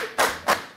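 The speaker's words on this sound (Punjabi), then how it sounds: "ਤਾੜੀ ਦੀ ਆਵਾਜ਼ ਗੂੰਜਣੀ ਚਾਹੀਦੀ ਹੈ" Three sharp hand claps in steady succession ring out loud and close in a Punjabi talk-show setting, each one bright and echoing briefly.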